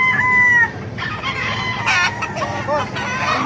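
Ten-month-old Lemon Sweater gamefowl roosters crow loudly and close by. A long crow opens, then shorter crows and clucks overlap from several birds, with some people talking in the background.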